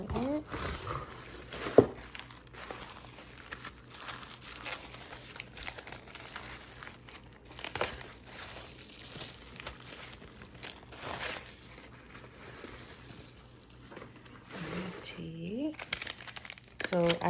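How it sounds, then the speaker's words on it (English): Crinkly mail packaging being unwrapped, with loud rustling and tearing bursts in irregular spurts, close up and intermittent throughout. "Let's unwrapping it."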